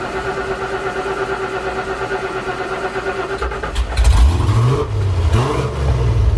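A 460 big-block V8 in a Highboy truck cranks over a steady starter whir for a few seconds, then catches and fires, revving up loudly and settling into a rough, throaty idle with a couple more blips.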